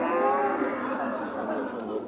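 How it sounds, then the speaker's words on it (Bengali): Cows at the Talgachhi cattle market in Shahjadpur, Sirajganj, one long, loud, drawn-out moo carrying over the crowded market din. "সুন্দর সুন্দর গাভী এখানে পাওয়া যায়।"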